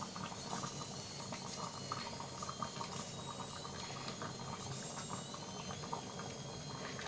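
Chana gravy made without onion or garlic simmers with homemade paneer added, giving a soft, continuous bubbling and crackling texture at low volume, with no voices.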